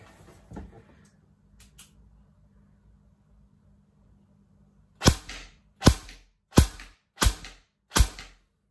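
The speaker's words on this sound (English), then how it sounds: "So let's see what single fire looks like." A KWA VM4 Ronin T6 airsoft rifle fires five sharp single shots at a steady pace, each a crisp loud crack, after a few seconds of near silence with faint handling clicks and no talk.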